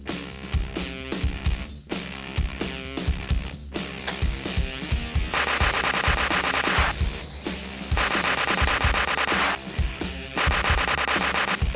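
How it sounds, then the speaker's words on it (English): A toy space blaster gun fires continuous electronic shooting effects, rapid stuttering zaps that give way to long, loud sustained blasts with brief pauses between them, close by and alone. "Space gun, space blaster."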